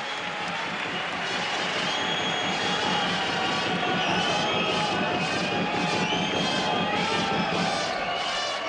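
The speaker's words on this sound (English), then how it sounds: "Crowd with some encouragement." Fans at a Euroleague basketball game between Panathinaikos and Maccabi, 2006–07 season, roar continuously with cheers and shouts of encouragement filling the arena.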